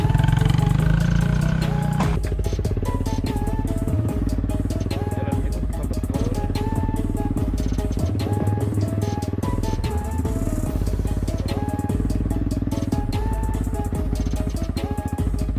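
A motorcycle rumbles along a rough, bumpy village road, its engine droning loud and close the whole way with rattles and clatter from the uneven surface, while people talk faintly underneath.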